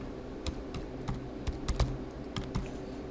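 Computer keyboard keys tapped out in a short, uneven burst of close, crisp clicks while someone enters a folder name, with a steady low hum underneath.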